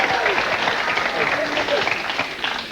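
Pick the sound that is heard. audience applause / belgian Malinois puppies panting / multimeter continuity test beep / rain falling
audience applause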